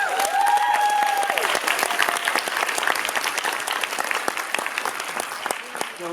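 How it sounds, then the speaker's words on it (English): Sustained crowd applause for a TV writing panel at a comic convention, loud at the start and gradually thinning and fading, with a voice briefly audible over the clapping early on. "Please give them all a big round of applause."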